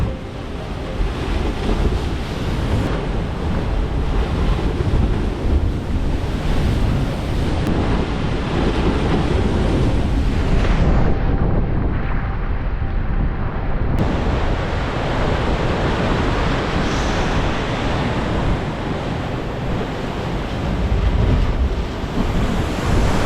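Large ocean waves crash head-on against the rocks at Dogheads Rock, a continuous heavy roar of surf with wind buffeting the microphone throughout and no voices.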